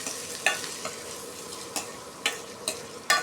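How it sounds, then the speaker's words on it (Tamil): A spoon scrapes and stirs through onion and tomato frying in a pan several times, sharp strokes over a soft, steady sizzle. "வெங்காயம் தக்காளி போட்டு நல்லா ஒரு கரண்டி வச்சு நல்லா கிளறி விட்டுக்கோங்க"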